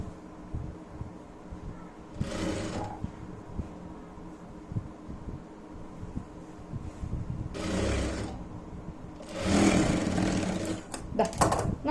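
Sewing machine stitching pleats on a churidar in short intermittent bursts, with a soft mechanical hum and clatter between runs.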